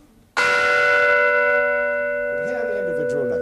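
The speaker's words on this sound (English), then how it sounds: "we can hear them all at once, the old-fashioned way, by striking the bell" A large struck bell sounds its partials together as one rich, sustained chord, loud and close after a sharp onset, then slowly decaying while faint voices or other sounds enter near the end.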